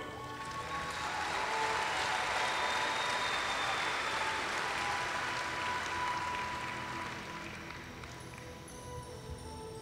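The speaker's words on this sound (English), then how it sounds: "Let's have one more round of applause for these outstanding animals" A dairy show audience claps in a steady, fairly faint wash of applause that swells and slowly tapers off, with no talking.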